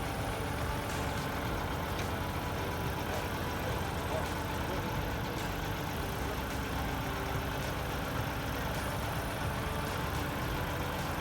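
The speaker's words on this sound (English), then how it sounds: "So we've got my dad driving the tractor." A tractor engine runs steadily while digging a hole for a temporary electric meter pole, a constant low rumbling drone at moderate distance with no clear changes in pace.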